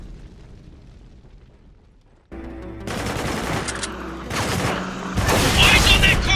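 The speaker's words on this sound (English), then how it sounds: "Walker, there's a turret over there." Turret machine gun fire and explosions during a Spec Ops The Line battle, heavy rattling bursts and booms kicking in after a quiet stretch, loud and close.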